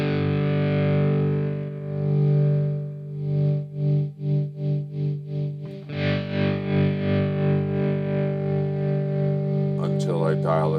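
An electric guitar sustains a held chord through an M-VAVE Tank-G multi-effects unit as a knob is turned, with the modulation swelling into rapid pulsing waves before the tone settles into a gentler, steady wobble.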